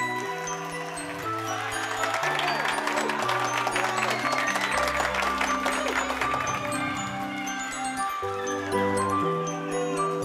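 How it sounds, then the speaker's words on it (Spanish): An audience applauds the champion of a televised singing competition as a cheque and medal are presented, with clapping running under loud, steady background music throughout. "Fuerte los aplausos, por favor"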